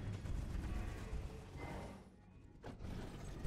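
An elevator mechanism grinds and rumbles in Elden Ring on the ride up to the Shadow Keep main gate, a low, steady, fairly quiet churning with a brief dip and a knock near the end.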